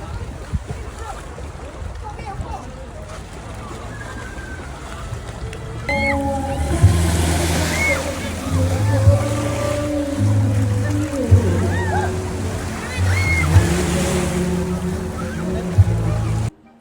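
Sea waves wash onto the beach at Bolinao, a steady broadband surf that carries on throughout, with people talking and a low hum joining over the second half.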